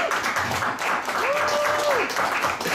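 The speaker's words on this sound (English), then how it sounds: "And you need to give us an applause." Audience applause at a boxing press conference, a steady wash of clapping from a crowd with a brief voice or whistle-like tone rising over it.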